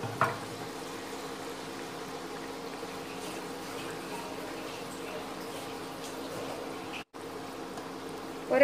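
Batter-coated banana fritters (pazhampori) frying in hot oil, a quiet, steady bubbling sizzle that continues evenly with a brief dropout near the end.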